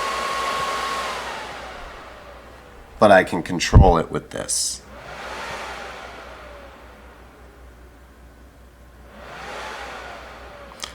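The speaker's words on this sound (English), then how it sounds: "how loud that fan is." A modded PlayStation 3 CECHA01 console's cooling fan, its speed set by a potentiometer, whirs and swells up and down in steady waves, with a brief burst of handling noise and someone speaking partway through.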